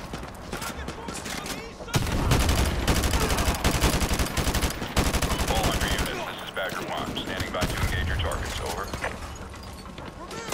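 Call of Duty: Modern Warfare 2 gunfire sounds as dense bursts of rapid automatic shots with loud sustained stretches and brief pauses, close and harsh, while a voice talks over it.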